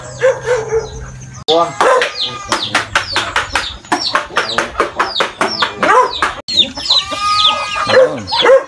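Native chickens on a Batangas farm with goats cluck and squawk loudly and repeatedly, close by, with a dog barking in between and people talking over the commotion.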